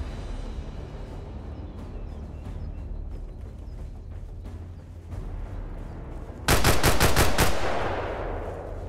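Machine gun fire from an MG nest in the video game Arma Reforger: a low rumbling backdrop, then a loud rapid burst of about six shots that rings out and fades.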